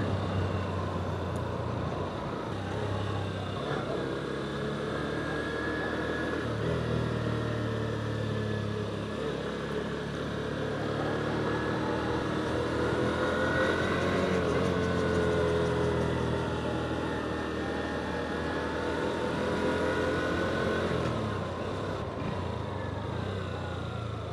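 Honda CB200X motorcycle engine droning steadily on a winding mountain road, a continuous moderate hum with shifting revs and wind rush, no talk.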